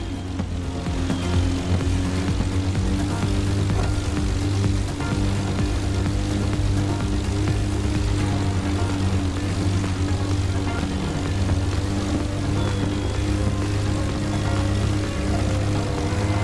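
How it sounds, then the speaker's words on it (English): A small aerobatic propeller aircraft in The Crew Motorfest racing game drones steadily throughout, a loud continuous engine buzz with a strong low hum that holds constant without breaks. "its size makes it the perfect aerobatic aircraft"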